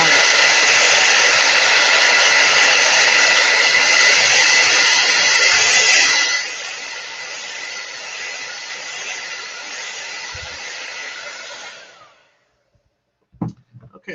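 Hair dryer blowing on a wet paint brush, a loud steady roar at full power for about six seconds, then dropping to a lower setting before switching off.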